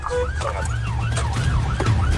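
Sirens from police units and an ambulance responding to a stabbing wail in repeated rising and falling sweeps over the low rumble of a moving vehicle, loud and close.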